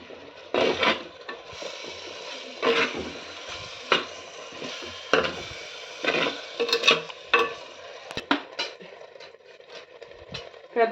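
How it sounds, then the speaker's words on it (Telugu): Pieces of fish are dropped one after another into a simmering tamarind curry in a clay pot, giving several soft irregular plops and splashes over a faint bubbling background. "చూడండి, చేప ముక్కలు వేస్తున్నాను."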